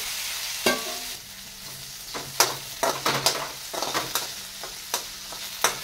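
Potatoes simmering in masala in a pan, with a steady soft sizzle and a run of scraping stirs and utensil taps that come close together toward the end, loud against a quiet background.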